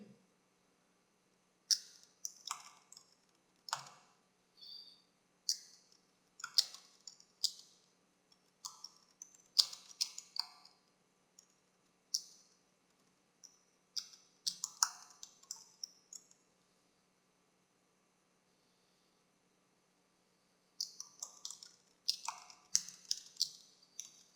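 Keystrokes on a computer keyboard while typing a document in Word 2010, sounding as quick irregular bursts of light clicks with brief pauses, fairly close and alone without talk.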